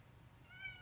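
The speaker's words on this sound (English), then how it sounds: "That's my cat Mittens." A pet cat gives a short, faint meow near the end, alone over a low background hum in a quiet room.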